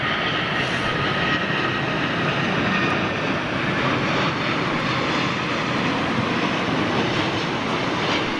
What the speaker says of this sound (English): So, looks like Virgin's Dreamliner.